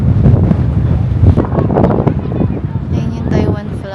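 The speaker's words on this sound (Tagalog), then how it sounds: "ang lakas ng hangin, no?" Strong gusting wind roars across an open mic in a large park in Taiwan, loud and buffeting throughout with brief lulls, while a person speaks over it.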